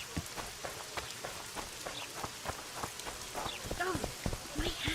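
Rain falls steadily in The Witcher 2, with dense drops spattering on surfaces from start to finish. Faint hoof-like clops mix into the downpour, and brief voice fragments sit under it.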